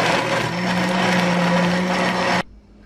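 A blender grinds a papaya milkshake with ice in a loud, steady whirring drone with a constant hum, then stops abruptly, leaving near silence.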